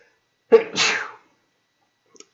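A single sharp human sneeze bursts out close to the microphone, a quick inhale catch then a loud hissing release, followed by silence and a tiny click.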